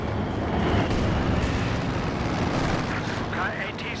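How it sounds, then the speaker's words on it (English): Heavy artillery fire pounding the headquarters in a real-time strategy game, a dense continuous rumble of booms and blasts filling the scene, with a few faint whistling tones near the end. "The enemy is firing on our HQ."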